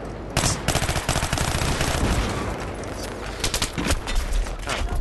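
Dense automatic gunfire from a Battlefield 3 firefight, loud and close, with rapid rattling bursts and overlapping shots that run almost continuously.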